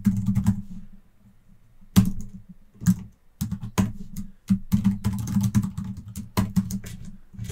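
Typing on a computer keyboard with an Australian layout while coding online: irregular bursts of close, crisp key clicks broken by short pauses, with no talking.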